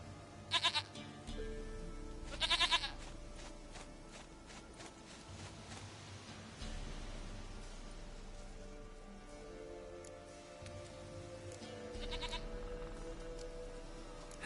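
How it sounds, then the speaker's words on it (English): Goat bleats from The Witcher 3: Wild Hunt, a few short loud cries at the start, near 2.5 s and again near 12 s, over a steady rain-like ambient bed. "Goat of mine, dearest, sweetest goat."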